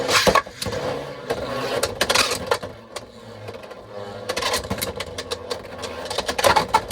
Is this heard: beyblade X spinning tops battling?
yes